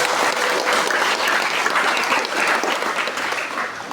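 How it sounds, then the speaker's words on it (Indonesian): A school audience at an Indonesian vocational school graduation applauds its teachers: a dense, sustained wash of clapping from many hands that fills the room without pause. "Kasih tepuk tanganlah untuk Bapak Ibu Guru."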